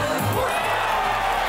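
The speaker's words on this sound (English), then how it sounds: "The amazing crowd" A crowd cheering and whooping at an outdoor FIBA 3x3 basketball World Tour event in Lausanne, a short, loud, continuous roar.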